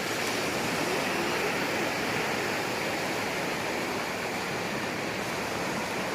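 Waves at Cha-am beach in Thailand roll in as a continuous, dense surf roar, steady and fairly loud with no voices over it.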